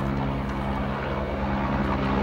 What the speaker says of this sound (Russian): Здесь вертолет летит.